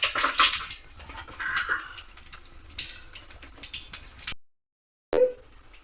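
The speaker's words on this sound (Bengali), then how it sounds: "আমি 2টো শুকনো লঙ্কা দিয়ে দিচ্ছি, কিছুটা পরিমাণ পাঁচফোড়ন দিয়ে দিচ্ছি" Dried red chillies and panch phoron drop into hot mustard oil and crackle with a bright, spitting sizzle close by, then fade to a brief silence before another short burst.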